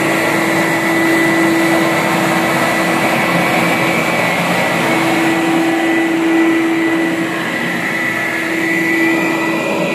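A loud, steady machine whine with a constant droning hum runs unbroken throughout from a Bissell Big Green Pet Pro carpet extractor working close by.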